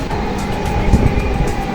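A Dhaka metro rail train runs along its elevated track, a steady near rumble with a faint high whine and a few small clunks, heard from inside the carriage with no talk.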